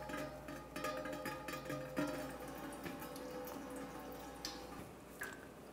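Engine coolant drips out of a 2007-2013 Mini Cooper during a water pump replacement, faint irregular drips and small ticks over a quiet garage background.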